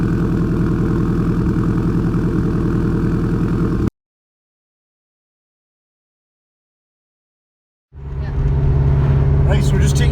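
A Subaru Impreza with a straight pipe exhaust sits at cold idle, a loud, rough, pulsing low rumble that cuts out for several seconds and then returns just as close and heavy.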